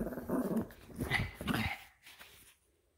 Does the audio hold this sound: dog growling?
yes